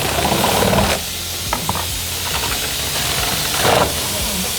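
A Super Shear saw run at half throttle slices through foam insulation near an outlet box, giving a steady loud hissing, rasping drone with brief scraping bursts, briefly easing then resuming.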